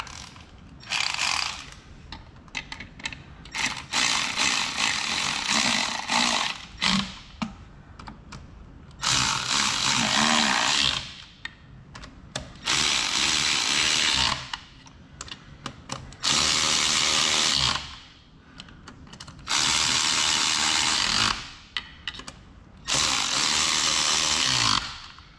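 Bolts are tightened down on a Peterbilt 379X axle during an axle seal replacement, with repeated loud bursts of a power tool rattling for a second or two each, separated by short pauses.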